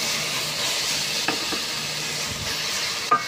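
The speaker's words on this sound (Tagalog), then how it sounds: "Ngayon, mga tropa, sa ating pan, ang ating susunod po ay ang ating bacon." Thin bacon slices frying in a pan give a steady, close sizzling hiss with a couple of faint clicks and a brief clatter near the end.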